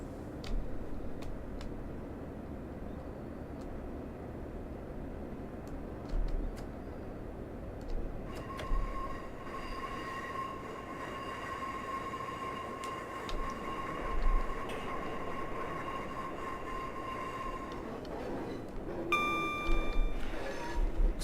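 A Class 142 diesel train in Train Simulator runs at caution near 25 mph between Heysham, Lancaster and Carnforth: a steady rumbling engine and rail noise with a sustained cab tone, plus occasional clicks and a brief warning beep near the end.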